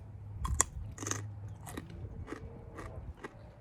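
Close crunchy bites and chewing of a freshly washed raw carrot pulled from a home veggie patch, a handful of crisp snaps spaced about half a second apart, quiet and alone.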